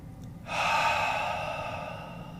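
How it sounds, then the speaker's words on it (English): A slow, even meditative breath: a long inhale drawn in through the nose followed by a gentle exhale out through the mouth, close and soft, with no other sound around it. "Inhale through the nose. Exhale through the mouth."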